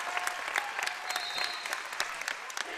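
A crowd at a high school volleyball championship claps steadily, the applause a dense, even wash with scattered cheers mixed in.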